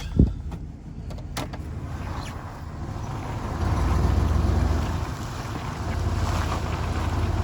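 A Chevrolet Suburban plow truck in four-wheel drive, heard as a low engine rumble with wind noise inside the cab, swelling as it moves, after a few clicks and knocks at the start; no speech.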